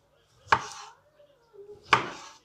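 A knife chops tomatoes for a cherry salad on a board, giving two distinct, crisp strikes about a second and a half apart, close and clear with quiet between them.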